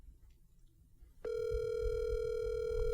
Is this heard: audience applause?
no